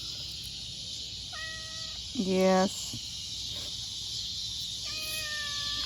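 A scruffy cat meows a few times, with a short cry near the start, a louder drawn-out meow in the middle and another toward the end, all against a steady background hiss. A person briefly says a word.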